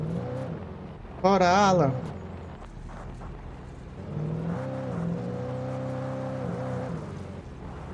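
In the Alan Wake Remastered video game, a car's engine hums and rises as it drives, with a short bright squeal early on, while a person talks briefly over it.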